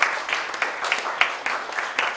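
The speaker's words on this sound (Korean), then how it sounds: "박수 쳐주시고요." Sparse, moderately loud applause from a congregation at a Christian elders' association founding thanksgiving service, with distinct individual claps pulsing steadily.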